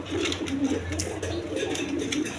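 Quality pigeons with feathered feet on a farm, cooing in low rolling murmurs across the whole moment, with some background chatter and faint bird noise.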